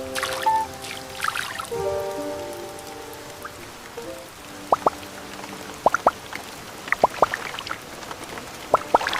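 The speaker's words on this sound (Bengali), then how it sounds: "বারান্দার কার্নিশ দিয়ে জল গড়িয়ে পড়ছে" Rain falls steadily around an old two-storey town house, with water trickling off a balcony cornice; sharp individual drips land near and loud in an irregular patter over a soft hiss of rainfall.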